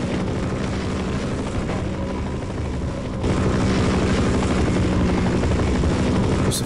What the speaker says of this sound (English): There's a fucking chopper.